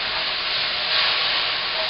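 Onions and garlic frying in a pan alongside broccoli, snow peas, noodles and chicken, giving a dense, even sizzling hiss that holds steady, close and without voices.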